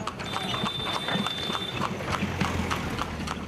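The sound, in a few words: horse-drawn tamtam cart hooves clip-clopping on road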